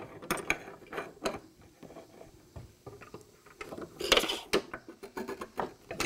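Small clicking and ratcheting mechanical sounds as an Easy Set gauge is dialed to set router bit height for a lock miter bit, a series of short sharp clicks and knocks at close range, with no speech.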